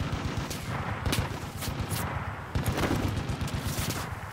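Gunfire in the shooter game Far Cry 5, with rapid sustained automatic bursts and repeated sharp shots throughout, loud and dense with no talking.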